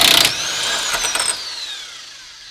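A power tool removes the 21mm Pitman arm bolt under a 2004 Chevy Suburban 2500HD four-wheel drive, with a short rattling burst at the start and then a high whine that winds down and fades, with no talking.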